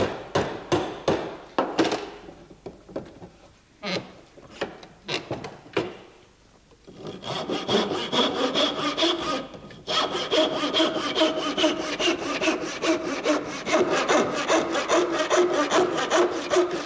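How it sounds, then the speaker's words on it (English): A hand saw cuts through a piece of wood aboard ship, first a few slow separate strokes, then a steady fast rhythm of rasping back-and-forth strokes, close and clear with no talk. "And with this sort of saw, I think it's worth perhaps showing you. Let's take a piece of wood."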